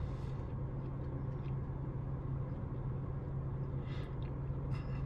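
A car's exhaust drones steadily in sport driving mode with a constant low rumble, heard faintly from inside the cabin. There is no talk.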